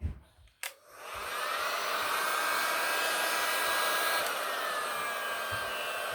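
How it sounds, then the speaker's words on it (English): A heat gun switches on after a couple of clicks and blows over epoxy, rising into a loud continuous whooshing hum that holds steady at close range with no talking. "Handy dandy heat gun."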